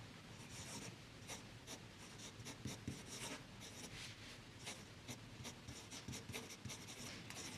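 A fountain pen nib writes grey ink across paper, a faint, close scratching with short repeated strokes and brief pauses, steady throughout with nothing else heard.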